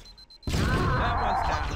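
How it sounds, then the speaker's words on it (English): A grenade blast in the Halo video game, erupting suddenly as one loud, dense burst that rolls on as a sustained rumble. "Fire in the hole."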